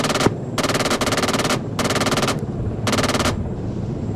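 Helicopter-mounted gun in the Arma 3 combat game firing four sustained automatic bursts, each lasting about a second, separated by short pauses, loud and close with no voices over it.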